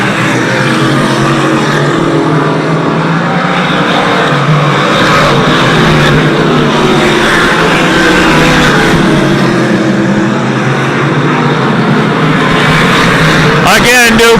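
Race cars roar continuously around a track during a late-season racing series event, a dense, loud engine drone with passing surges and a sharp burst near the end, under a commentator's voice.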